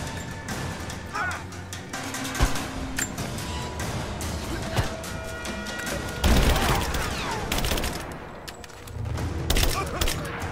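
A shrapnel gun fires repeatedly during a fight in Rise of the Tomb Raider, with sharp crackling blasts and impacts layered over a busy battle din, while a voice talks over the action.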